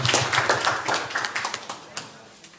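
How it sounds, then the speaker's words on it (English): An audience claps at a merchant meeting in Hamtramck, Michigan. The applause is dense and lively at first, then thins out and fades over a couple of seconds, with a voice faintly underneath. "please give yourselves a round of applause for coming here on a weekend"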